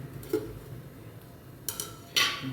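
A lid goes onto a container of soaking sago in a quiet kitchen, with a soft knock followed by two sharper clinks close by.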